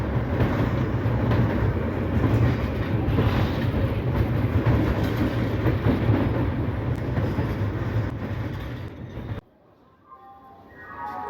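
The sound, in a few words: Shaktipunj Express train departing Dhanbad station at night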